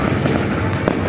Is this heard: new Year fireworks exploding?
yes